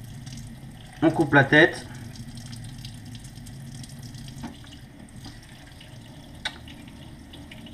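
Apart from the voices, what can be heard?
cold tap water running while filleting anchovies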